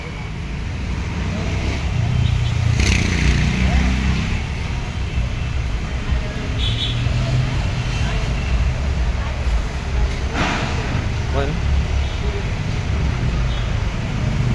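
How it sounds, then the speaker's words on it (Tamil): Heavy traffic jam in Angamaly, Kerala, heard as a steady, loud roadway rumble of idling and slowly moving vehicles, with a few brief horn-like tones rising above the continuous drone. "அங்கமாலி ஒரு மெயின் சிட்டி தான், இருந்தாலும் டிராஃபிக்கு கடுமையான டிராஃபிக்கு."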